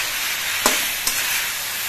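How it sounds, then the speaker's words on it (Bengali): Taro leaves cook with salt and turmeric in a pan, giving a bright continuous sizzle with two quick scraping knocks as they are stirred, close by and with no voices. "এবার সব কিছু দিয়ে নেড়ে চেড়ে মিশিয়ে নিতে হবে।"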